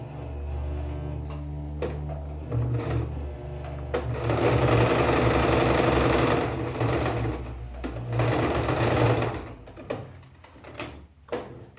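A home sewing machine runs in steady bursts of rapid stitching, loud and close, with brief pauses and a few small clicks between runs as fabric is repositioned.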